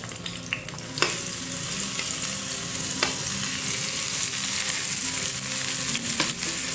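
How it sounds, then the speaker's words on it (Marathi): Chopped onion sizzling and frying in a little hot oil in a kadai, a dense, continuous close crackle with a few sharp stirring clicks of a spoon against the pan, and no voices. "आता आपण चिरलेला कांदा घालून घेऊया याच्यात"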